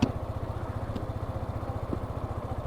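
A motorcycle engine running on the sand of Cox's Bazar beach gives a steady, close, low putter of even rapid pulses that runs for the whole short stretch, with no talk.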